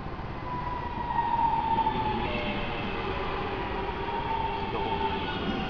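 Class 323 electric train, unit 323217, arriving at Aston station, a sustained rolling rumble with a rising and falling whine and squealing wheel tones as it draws in close, with no talk.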